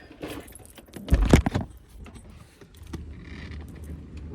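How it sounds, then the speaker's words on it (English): Car keys jingle and rattle close by, with a loud flurry of metallic clinks in the middle and quieter handling sounds before and after. "Where's my car key?"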